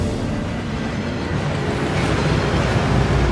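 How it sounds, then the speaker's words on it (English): A waterfall in the Hogwarts Legacy game that washes away enchantments, heard as a loud, continuous rushing roar that builds slightly toward the end, with no voices over it. "That waterfall washes away all enchantments"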